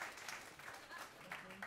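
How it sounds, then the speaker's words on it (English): Audience applause at the Jazz St. Louis club, a brief, moderately quiet patter of many hands with a few sharper claps, heard without talk. "Yes, you can applaud."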